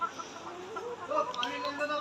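Layer hens cluck in a poultry shed, a soft murmur of overlapping clucks and calls at moderate distance.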